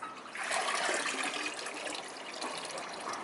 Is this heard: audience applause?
no